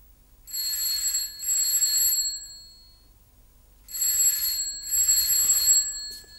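Telephone ringing at dawn in an Egyptian TV drama, two loud bursts of bright electronic bell trills, a pause of silence, then two more bursts, close and alone.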